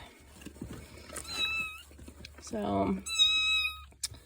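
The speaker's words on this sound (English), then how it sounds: "these are some barn cats, free to good homes if somebody wants them." Barn kittens meow several times in high, thin cries, near and fairly quiet, while a person speaks briefly among small rustles.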